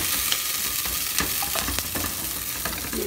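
Onions fry in a pan with a steady sizzle and occasional stirring scrapes, close and continuous, with no talking.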